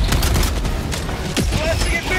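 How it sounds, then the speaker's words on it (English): Bursts of gunfire and booms from a sentry turret in Helldivers 2, rapid loud shots with mechanical clatter amid chaotic battle noise, a voice speaking over it. "Calling down a sentry."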